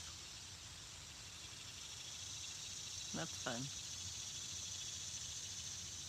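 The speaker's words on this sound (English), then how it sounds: "We still have cicadas." A steady high-pitched insect drone fills the background throughout, like cicadas buzzing, with a brief spoken remark in the middle.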